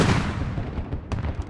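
Gunfire and a vehicle cook-off in the military video game Squad, a burst of heavy booming blasts and crackling shots, loud at first and then trailing into rapid popping reports.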